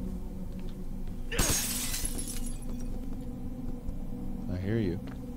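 Glass and objects shatter loudly in the horror game Condemned: Criminal Origins, a sharp burst of breaking debris followed by a low ambient drone and a player talking over it.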